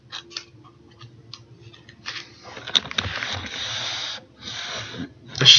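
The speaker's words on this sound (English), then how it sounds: "Of course, I'm shuffling my deck." Cardfight!! Vanguard trading cards being shuffled by hand, a papery riffle-and-slide texture in short bursts that grows into a longer continuous shuffle, close and moderately loud, with faint low background murmur underneath.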